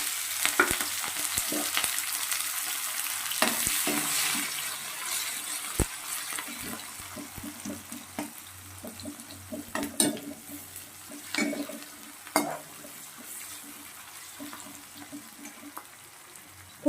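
Green chilies, garlic and onion fry in hot oil in a heated kadai, giving a steady sizzle broken by irregular clinks and scrapes of stirring, with no talk.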